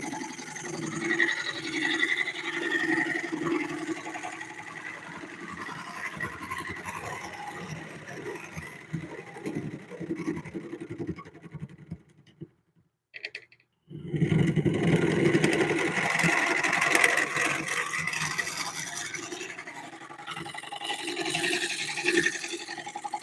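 Wood lathe spinning a bowl blank while a small scraper cuts, a steady close grinding whir with scraping texture that briefly drops away near the middle, then resumes just as loud.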